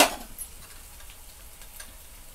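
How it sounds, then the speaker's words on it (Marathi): Green chili and garlic sizzle gently in hot oil in a pan, a soft steady frying hiss with faint ticks, heard close and alone after a brief louder start. "मिरची आणि लसूण छान असा तेलामध्ये तळलेला आहे"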